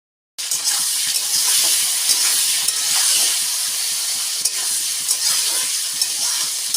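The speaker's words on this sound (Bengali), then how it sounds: "এবার আমি ওই একই সঙ্গে টমেটো কাটাটাও ভেজে নেব" Chopped tomato frying in hot oil alongside yardlong beans for a mixed winter vegetable curry, giving a loud, continuous sizzle and spatter with occasional stirring, starting abruptly after a brief silence.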